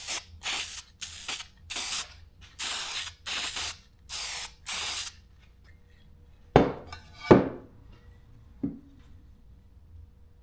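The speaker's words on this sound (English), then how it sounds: "Slap a coat of primer on there so we don't flash rust my bare metal there" Short bursts of aerosol primer hiss in a steady series, about eight quick sprays onto a bare metal Jeep CJ-5 part, followed by a few sharp metallic clinks as the can is set down.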